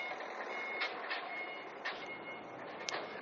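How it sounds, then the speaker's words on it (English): A lorry reversing near the West Somerset Railway, its backup alarm giving a few evenly spaced tonal beeps over a steady low rumble, moderately distant and fairly faint. "Is that a lorry?"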